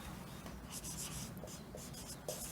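Chalk or marker writing on a board during a Class 10 Hindi-medium maths lesson on polynomials, heard as steady scratchy strokes in short bursts over a quiet room, with no talking.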